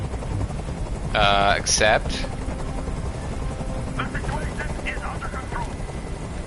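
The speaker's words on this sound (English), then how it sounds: "Tell that helicopter to get out of here." Helicopter in the video game Detroit: Become Human, a steady rotor drone under the whole scene, with brief spoken lines from game characters partway through.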